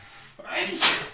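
A single abrupt sneeze, close and loud, with a sharp intake then a breathy burst.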